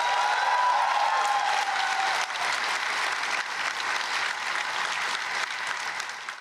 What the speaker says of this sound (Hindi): ताबिश हाशमी ने माइक थामा तो तालियां और सीटियां आर्ट्स काउंसिल कराची के बाहर तक सुनाई दी